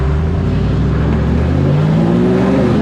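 A Hemi-swapped Jeep TJ in four-wheel drive revs hard off-road, a loud, steady engine roar with a rising whine building through the run, up close and with no talking.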